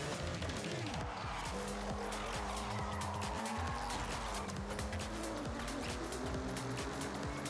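A car drives in Forza Horizon 6 with a steady, continuous engine drone and occasional tyre noise, fairly faint throughout and without pauses.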